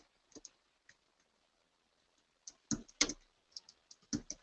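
Keystrokes on a computer keyboard, a couple of isolated taps followed by a quicker burst of close, crisp typing in a quiet room.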